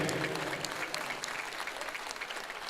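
An audience claps throughout at a sports match in Panvel, producing a dense, steady patter of many hands that carries on without a break and fades slightly toward the end, with a faint murmur of voices underneath.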